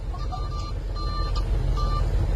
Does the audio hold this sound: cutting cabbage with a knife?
no